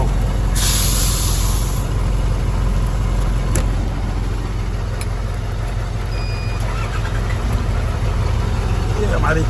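A Toyota BJ40 engine idles at a truck stop in Pakistan, a steady, close, low rumble running throughout over constant broadband roadside noise, with a few brief clicks along the way.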